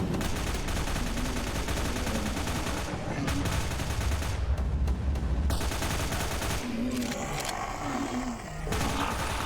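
Gunfire rattles through a demon hunting video game, dense bursts of rapid shots that cut out briefly and return in several volleys, loud and close.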